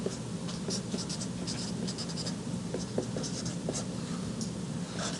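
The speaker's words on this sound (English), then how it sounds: "I'll just write it out formally" Handwriting a polynomial theorem, with a pen or marker scratching steadily in short strokes and bursts over several seconds. No one speaks.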